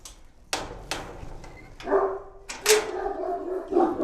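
A dog barks several times in sharp, separate bursts as it runs about a garden, fairly close, with quieter rustling and movement between barks and no talk.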